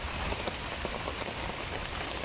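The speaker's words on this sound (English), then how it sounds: "But it's raining, guys." Steady rain falling at Birkensee lake beach near Röthenbach, Germany, a dense continuous patter on surfaces close by, with no voices.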